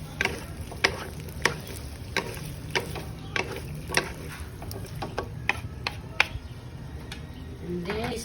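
Sausage menudo with carrots and potatoes is stirred in a pot, a spoon scraping and clicking against the metal in regular sharp ticks about every half second, close and fairly quiet.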